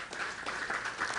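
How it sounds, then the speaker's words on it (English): A short burst of audience applause at a night of Ganesh Utsav celebrations, a dense, even patter of many hands clapping, moderately loud and heard alone. "I want you to give yourself a round of applause"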